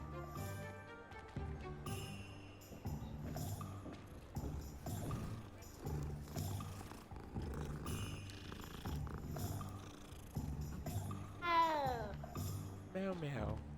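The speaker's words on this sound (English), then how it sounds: "Beautiful cat." A cat in Hogwarts Legacy purrs softly and lets out short rising meows near the end, heard under a voice talking and background game sounds.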